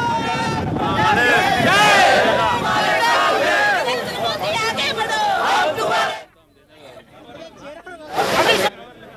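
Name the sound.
crowd celebrating loudly at octroi checkpoint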